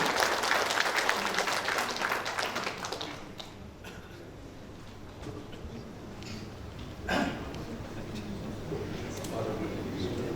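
An audience at a national address by Mahfud MD at an alumni association meeting in Kendari bursts into dense applause that fades after about three seconds, leaving room noise and a brief murmur.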